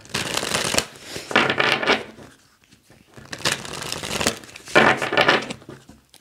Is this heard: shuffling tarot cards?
yes